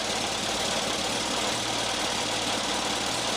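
An Oliver 60 tractor engine with a new coil runs steadily with an even, rough drone, loud and near, with no speech.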